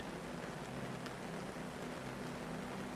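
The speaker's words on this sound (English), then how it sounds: "The rain remains steady" Steady rain falls on a tent near a river, an even wash of quiet hiss over a low, constant rumble, with one faint brief tap partway through.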